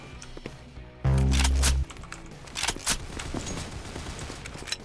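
Gunfire in a Roblox CS:GO-style shooter: a short burst of rapid shots with a sustained tonal buzz, then scattered sharp cracks and footstep-like thuds at game volume.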